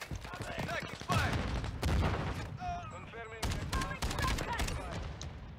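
Heavy KV Broadside shotgun blasts in Modern Warfare 2: four loud, booming shots spaced unevenly over a few seconds, with a voice talking between them amid game noise.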